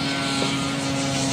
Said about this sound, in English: Got a Fokker biplane there.